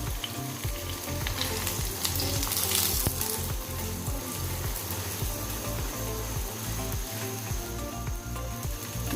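Paratha sizzles and fries steadily in ghee on a hot griddle, a continuous crackling hiss with small pops and occasional scraping as it cooks, close and fairly loud with no talk.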